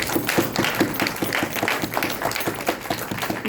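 Audience in a hall applauding scientists at a doctoral thesis ceremony, a steady dense patter of many hands clapping throughout at moderate volume.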